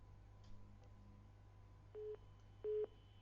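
Faint telephone line tones after a call drops, several short electronic beeps over a steady low hum, ending in two louder flat tones, with no talk.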